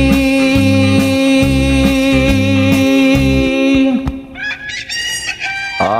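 A rooster crows loudly and close, a long drawn-out cock-a-doodle-doo, followed by softer clucking and another rising crow at the end.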